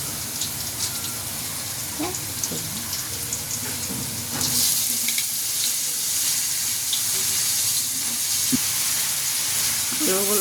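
Garlic, onion and chilli fry in hot oil for a potato and Malabar spinach bhaji. A constant sizzle fills the clip, punctuated by occasional scrapes and clinks of a spatula, and grows louder and hissier about halfway through.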